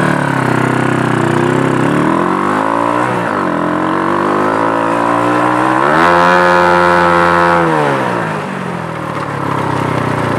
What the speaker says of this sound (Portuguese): Uma esticada e uma acelerada, tentando limitar ela aí, hein?